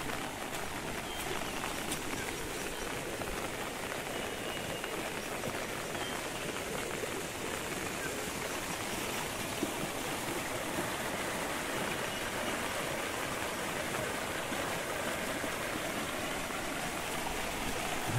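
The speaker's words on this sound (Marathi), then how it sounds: "असे नाले बारके बारके वाहत तिकडे." Small monsoon-fed streams run through a rural Konkan village near Rajapur, giving a steady, dense rush of flowing water that holds at an even level throughout, close by, with no voices.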